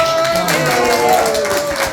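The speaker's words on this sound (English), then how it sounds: "Give her a round of" Audience applause at a Shaken Not Stirred event honoring Norman Wanstall, a brief burst of dense clapping under a voice and a sustained tone.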